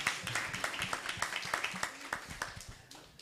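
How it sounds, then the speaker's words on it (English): A small workshop audience claps in a quick, uneven burst of distinct hand slaps at moderate distance, lasting about three seconds before tapering off, with a faint voice mixed in. "That deserves a clap."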